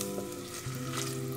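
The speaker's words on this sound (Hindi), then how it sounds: "प्याज को ऑयल में फ्राई करेंगे, सॉफ्ट होने तक इसको हम फ्राई करेंगे।" Chopped onions fry in oil in a pan, a steady close sizzle running alone for the whole short stretch with a faint low hum beneath.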